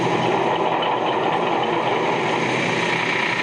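A Ford 5000 Select-O-Speed tractor engine pulls away to start ploughing, a steady, dense mechanical drone with a low rumbling undertone, continuous and fairly close, with no voices over it.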